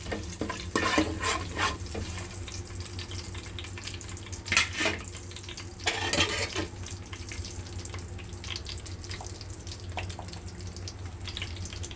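Cinnamon, cloves, fennel and bay leaves frying in hot oil, a continuous close sizzle broken by several sharp stirring scrapes and clatters, no voices.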